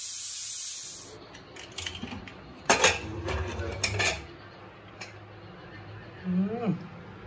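A spoon scrapes and clatters against a pot of mutton curry as it is stirred, making irregular metallic strokes with a sizzling hiss underneath.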